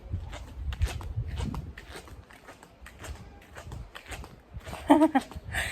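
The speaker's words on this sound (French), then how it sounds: "Est-ce qu'on peut parler de ce bruit de tongs?" Flip-flops slap against the ground while someone walks on a summer day in Spain, a loose irregular patter of close steps with faint background voices and a brief louder moment near the end.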